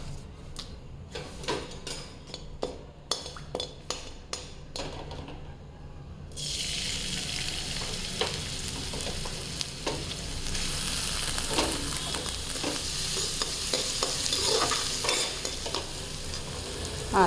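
A bay leaf dropped into hot oil in a pan while cooking dal makhni sets off a sudden loud, continuous sizzle after several sharp stirring clinks, and spoon scrapes carry on over the hiss.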